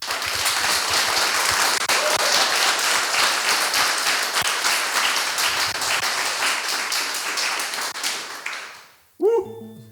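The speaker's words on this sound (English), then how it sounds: "So the applause is due because the release is great" Sustained audience applause at a software release talk, steady dense clapping for about nine seconds that fades out abruptly near the end, followed by a brief different sound.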